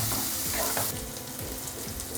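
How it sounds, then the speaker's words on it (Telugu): Spices fry in hot oil for a mutton and potato curry, a dense, steady, close sizzle with a few soft stirring scrapes and no talk. "ఈ మసాలాలంతా పచ్చివాసన పోయే వరకు ఇలా కొద్దిసేపు ఆయిల్లో ఫ్రై"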